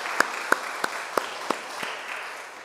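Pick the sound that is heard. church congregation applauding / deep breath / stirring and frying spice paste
church congregation applauding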